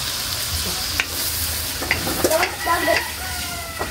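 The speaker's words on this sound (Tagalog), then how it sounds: "At ilagay po natin ito mga idol. Yung chicken." Chicken for ginataang manok with papaya goes into a hot cooking pot, giving a steady loud sizzle with a few clattering stirs and knocks near the end.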